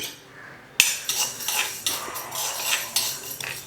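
Black peppercorns being dry roasted in a pan for sambar and rasam powder, heard as a string of sharp metallic clinks and scrapes from a spoon against the pan, close and fairly loud, with no voices.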